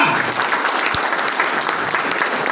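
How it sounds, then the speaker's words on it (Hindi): Steady applause from a seated audience at a business plan seminar, dense even clapping throughout with no pause. "जब अच्छी अच्छी बातें आती हैं तो तालियां भी अच्छी अच्छी बजा दीजिए ना।"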